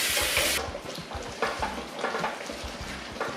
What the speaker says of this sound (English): our curry's been cooking away